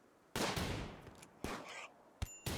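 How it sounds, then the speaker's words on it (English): A few sharp gunshot bursts in the Rimworld colony game, three or four abrupt cracks with short decaying tails, quiet and spaced apart with no talking over them. "they hit the first shot. Okay, it's only a gunshot"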